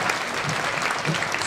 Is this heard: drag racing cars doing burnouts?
no